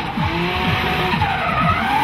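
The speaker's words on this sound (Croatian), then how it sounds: "Puno dima po boku, velika brzina." A drift car at a 2010 competition in Osijek slides sideways at high speed, its engine surging in repeated revving pulses under continuous tire squeal.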